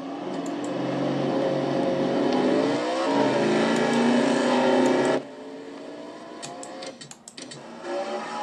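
Race cars roar around Martinsville in a racing video game, a loud sustained engine drone with rising and falling pitch that cuts off abruptly, leaving a quieter engine hum with brief ticks and clicks.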